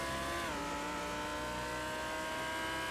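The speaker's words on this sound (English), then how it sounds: "they did definitely improve the sound on this car" A GT3 race car engine in a racing video game at Sebring roars continuously at high revs, its pitch dipping briefly near the start before holding steady and loud throughout.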